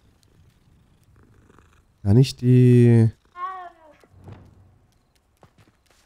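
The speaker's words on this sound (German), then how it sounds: "Süße Kätzchen." Cats in the video game Hogwarts Legacy give a couple of loud, drawn-out meows close up, set against a faint purring bed; someone speaks briefly over the quieter stretch.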